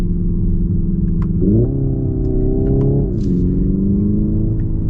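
A 2025 Hyundai Ioniq 5 N electric car's synthetic, buzzy engine tone rises in pitch as it accelerates, stepping up like gear shifts, with a low rumble underneath.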